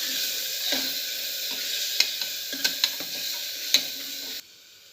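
Tomatoes with ginger garlic paste sauté in a pan for chicken salna, a steady close sizzle broken by several sharp spatula taps against the pan, cutting off abruptly near the end.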